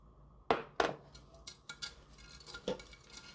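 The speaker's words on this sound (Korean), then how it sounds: "잘 섞어주고" Yakbap ingredients, cinnamon powder, brown sugar and sesame oil, stirred together in a bowl: a few sharp spoon clinks and scrapes against the dish, fairly quiet and spaced apart, with no talking.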